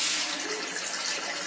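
Water runs steadily into a toilet flush tank as the float ball drops and the inlet opens, a continuous close hiss and splash of flowing water with no talk over it.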